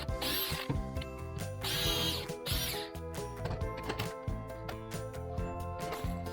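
Screws being driven into the existing holes of a big kitchen drawer's side railing in a truck camper RV, heard as repeated bursts of whirring and ratcheting from a power driver, with short pauses between.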